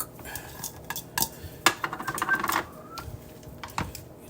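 Sliced potatoes tossed in a hot pan of butter and oil, with irregular clinks and scrapes of a utensil against the pan over a low sizzle, close and moderately loud.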